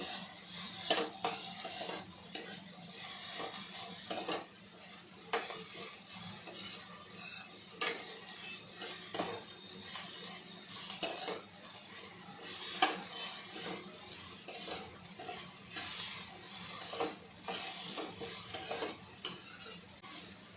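Vegetables with yellow capsicum sauté in a pan, a soft continuous sizzle broken by repeated scraping strokes of a spoon stirring against the metal, close and steady, with no talking.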